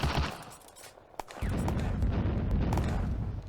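Sustained gunfire in the video game Firefight as an infantry squad fires on a Soviet anti-tank rifle squad, a dense, rumbling fusillade that drops out briefly and then resumes loud and continuous.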